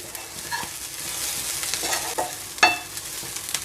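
An oats mixture is stirred in a pan over a low flame, with soft sizzling, scraping utensil strokes, and one sharp metallic clink near the end, all close and without any talking.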